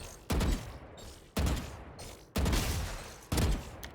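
Gunfire in the video game Valorant, four evenly spaced bursts of shots about a second apart, each a sharp onset with a short decaying tail over a steady background.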